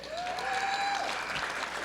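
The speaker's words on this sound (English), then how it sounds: "go ahead and clap for our support" A luncheon audience applauds steadily for the event's sponsors, a dense, even wash of clapping with a faint whistling tone sliding through it near the start.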